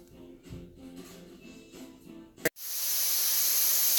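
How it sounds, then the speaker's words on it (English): Hamburgers hit a Gotham Steel smokeless grill set between medium and high, with a sudden loud, steady hissing sizzle that begins after a sharp clunk and continues strongly. "I have my hamburgers on and I only have this thing on like medium, between medium and high, and it is sizzling"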